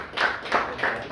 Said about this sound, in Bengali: তো আমাদের টিমকে যদি একটা হাততালি আমরা দিই